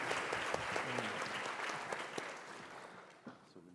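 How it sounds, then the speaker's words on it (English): Delegates at a conference opening plenary give a round of applause, a steady patter of many hands that slowly thins and fades, with a few voices faintly heard near the end. "Round of applause then for Dennis and George."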